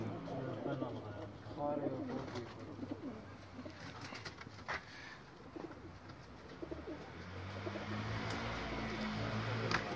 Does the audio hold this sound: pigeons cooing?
yes